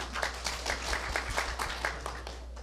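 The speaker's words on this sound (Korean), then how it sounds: "박수 부탁드립니다" Audience applause at a Busan public conflict-management training session, a modest group clapping as a presenting team comes up, fairly faint with separate claps audible over a low hum.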